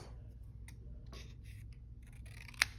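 Scissors cut cardstock packaging in a quiet room, giving several faint, crisp snips and slicing strokes. A louder snip comes near the end, and there is no talk.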